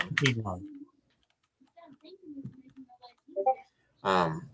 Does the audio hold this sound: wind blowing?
no